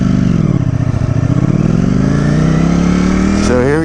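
A Ducati Streetfighter V4S motorcycle engine revs up loudly nearby, a throaty steady drone climbing in pitch toward the end, with no one talking over it.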